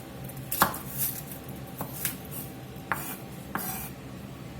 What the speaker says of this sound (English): I'm just going to cut the end of this big old garlic bulb off here